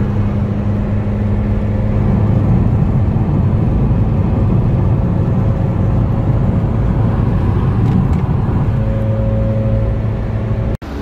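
A Scania truck travels on a highway near Curitiba after rain, heard from inside a passing car as a steady, loud road and engine roar lasting throughout, with a brief sharp drop at the very end.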